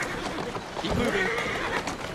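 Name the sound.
horse neighing in Assassin's Creed Syndicate video game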